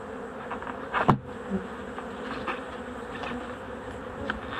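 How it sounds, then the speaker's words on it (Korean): Honeybees buzz on a sparsely covered hive frame during an October colony inspection, a steady low drone of many wings, fairly quiet and close, with a few louder passes of individual bees near the microphone. "반대편에도 벌이 얼마 안 붙어 있습니다"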